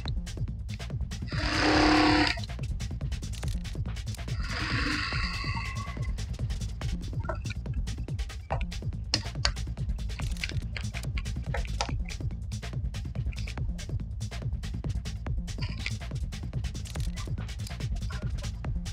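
A sewing machine with a slight fault and a thread-cutting problem stitches a pajama, giving a steady, rapid, even clatter that runs for the whole stretch at moderate loudness, with a couple of brief higher squeaks near the start.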